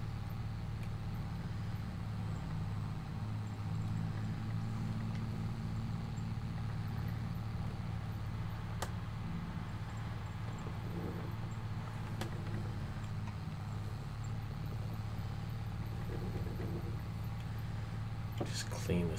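Tractor engine labouring steadily under load while pulling a baler in Farming Simulator 22, a constant deep drone running through the whole stretch with a faint click or two on top.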